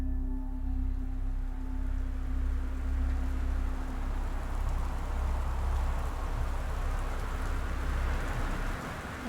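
Steady rain pours down in the video game Gone Home, a soft, even hiss of drops falling outside a front porch at night that holds unbroken and quiet throughout, with no voices over it.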